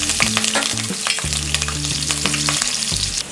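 Three long-slit green chilies sizzle in a tablespoon of ghee in a kadhai, a bright continuous crackle with stirring scrapes, loud and close, over a sustained tonal hum.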